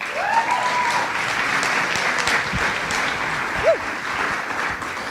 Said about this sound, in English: It's nice to have applause directed in my way.